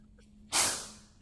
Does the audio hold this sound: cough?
yes